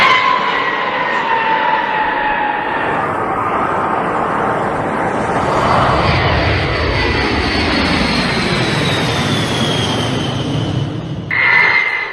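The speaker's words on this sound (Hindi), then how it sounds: "ब्रिटेन में 2 B-52 लैंड हुए।" Jet engines of a B-52 bomber aircraft roar loudly and continuously at close range, with a drifting, sweeping whine layered over the heavy rumble.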